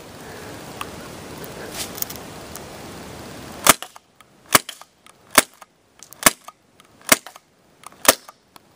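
Crosman C11 CO2 airsoft pistol firing BBs, six sharp, close cracks spaced about a second apart in a steady rhythm after a stretch of muffled handling noise.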